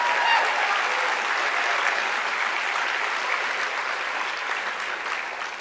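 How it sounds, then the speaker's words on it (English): Audience at a university talk gives a round of applause, a dense, even wash of clapping hands that holds strong throughout and fades only slightly toward the end. "So again, a big round of applause for them."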